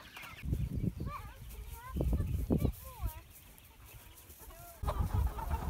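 Hens cluck and trill nearby in short rising and falling calls, scattered through the stretch, with a person speaking in between them.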